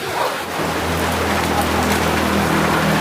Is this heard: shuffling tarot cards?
no